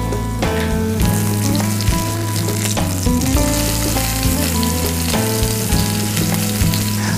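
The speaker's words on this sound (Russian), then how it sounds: "Пусть она потихонечку себе жарится." A meat patty frying in olive oil in a pan over medium heat gives a steady, close sizzle with frequent crackles and pops, continuous and unbroken by speech.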